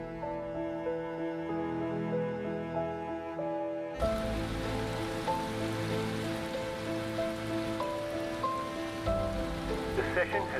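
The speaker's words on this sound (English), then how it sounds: "No sign of this rain stopping" Rain suddenly sweeps in during a Mazda Cup race at Monza in a racing video game, a dense steady patter over sustained tonal hums and music that carries on throughout.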